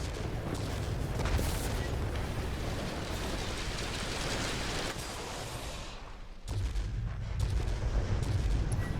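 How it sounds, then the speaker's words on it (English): Enemy ground fire aimed at a Russian Ilyushin IL-20 attack aircraft in the video game World of Warplanes, a dense continuous rattle of gunfire and booms over engine roar that briefly dips before resuming loudly. "Something's shooting at us."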